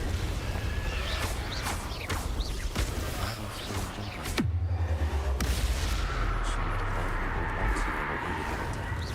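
A Confringo spell fired in the Hogwarts Legacy video game produces a booming blast with a sharp crack at mid-clip, set against constant loud game combat noise and rumble.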